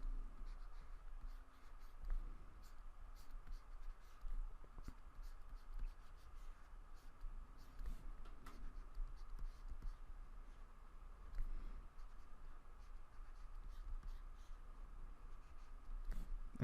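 A pencil sketches an arm on paper, a soft, continuous scratching with small strokes over a quiet room hum, fairly faint throughout.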